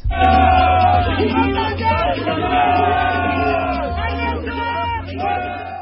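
A large crowd at a presidential declaration rally roars and chants, loud massed voices with shouts and cheers rising over a steady low rumble, sustained throughout.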